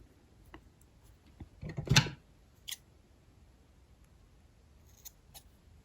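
Scissors snipping excess crochet yarn close to the work on a crochet blanket, with one crisp close cut, then a couple of faint snips and light handling noises in a quiet room.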